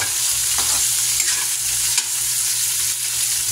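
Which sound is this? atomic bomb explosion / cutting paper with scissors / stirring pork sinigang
stirring pork sinigang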